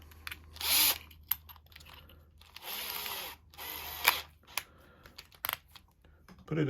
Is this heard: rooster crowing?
no